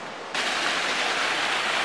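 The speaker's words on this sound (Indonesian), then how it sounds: "Ini air terjun yang kita cari-cari selama perjalanan ini guys." A waterfall on a motorbike touring trip near Magetan, heard as a loud, steady rushing roar of falling water that starts abruptly after a brief quieter moment and continues without pause.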